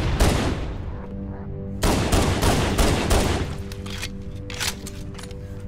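Gunfire in the shooter game Halo MCC, loud bursts of rapid automatic shots in several volleys with short gaps between them, over a low steady background hum.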